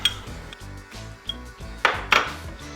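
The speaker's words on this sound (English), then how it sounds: "I just stir until I can't see any more flour" A spoon stirs flour into mushroom soup in a pan, making repeated scraping strokes with a few sharper clinks against the pan, close and fairly loud with no talk.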